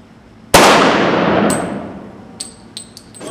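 A gunshot fired during a test of HALO II ballistic body armor from Armor Express: a single loud, sharp crack with a long ringing decay, followed by a few faint metallic pings.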